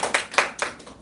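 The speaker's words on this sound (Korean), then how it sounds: "존경의 박수 한번 드립니다" A lecture audience gives a brief burst of hand clapping, about four distinct claps over roughly a second, close and fairly crisp with no talking.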